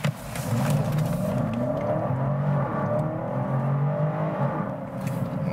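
A BMW X5 50i with its V8 pulls hard from a standstill to 50 mph on a coastal highway, the engine note climbing through gear changes in a smooth, loud, continuous surge heard from inside the cabin.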